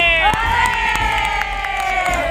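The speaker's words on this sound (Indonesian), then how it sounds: "Tepuk tangan sambil bilang hore." Young preschool children in a class cheer together with a long sustained shout of hooray, loud and close, with sharp claps scattered through the chorus.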